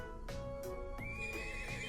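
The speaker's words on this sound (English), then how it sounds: "The horse became unhappy." A horse in the video game Trails of Cold Steel gives a clear, wavering whinny that rises in pitch, with a few soft hoof clops at the start. No one speaks.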